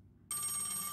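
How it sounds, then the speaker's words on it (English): A phone rings in a video game, a bright electronic trill that starts abruptly after a brief near-silent moment and sustains loud and steady, with no talk. "Oh, it's ringing."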